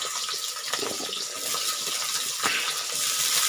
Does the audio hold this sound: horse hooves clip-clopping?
no